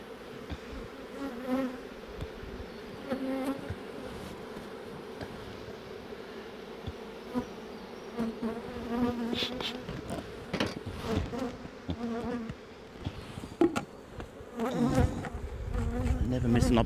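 Honey bees buzzing around an open beehive in Coramba during a varroa check, a steady close swarm drone with occasional louder passes near the ear and light handling noises, brief low voice in the background.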